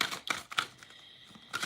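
A tarot card deck being shuffled by hand, heard as a few crisp, papery riffling bursts separated by short pauses, close and fairly quiet, with no talk.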